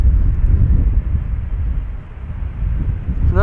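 A German Airways Embraer jet flying for KLM passes at Amsterdam Schiphol Airport, a steady low rumble with gusts of wind buffeting the microphone, swelling and easing over a few seconds.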